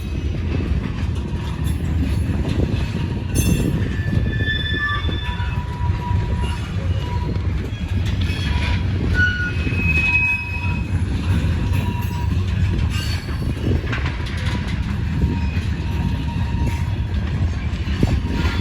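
An RJ Corman freight train rolls steadily past on its tracks with a continuous low rumble, wheel clatter and occasional high metallic squeals, sustained and fairly close.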